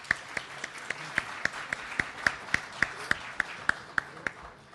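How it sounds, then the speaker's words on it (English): A live audience at a Coral Gables mayoral candidate forum applauds a former city commissioner being welcomed to the dais, a steady mix of clapping lifted by sharp individual hand claps recurring throughout. "Round of applause."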